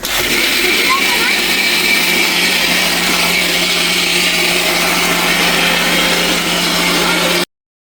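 A kitchen blender grinding rice and lentils whirs loudly and steadily with a low hum underneath, running for several seconds before cutting off abruptly.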